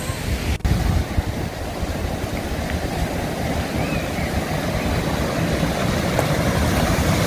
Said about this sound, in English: stormy today, and I just want to video this river